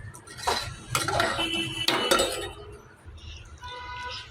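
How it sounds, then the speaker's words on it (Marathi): A pot of veg pulao with a splash of hot water being stirred to loosen rice stuck to the bottom, giving repeated metallic scrapes and clinks of a spoon against the pot, close and fairly loud, with a quieter stretch near the end. "आधी थोडंसं गरम पाणी टाकून हलवून घ्यायचं, कारण की थोडंसं खाली चिटकलेलं असतो."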